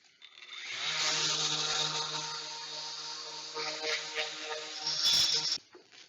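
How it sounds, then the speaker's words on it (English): A power sander works the back edges of a stained scrap wood flag project, a steady buzzing whir for about five seconds with a few brief surges, fairly close, then cutting off abruptly. "just need to sand the back as some of the stain got on the edges."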